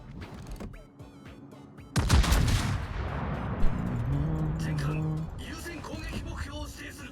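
Naval guns fire from a warship, the Lauria, in the World of Warships video game. One loud, heavy boom is followed by a long rolling rumble over a steady engine drone, with a faint tonal whistle afterward.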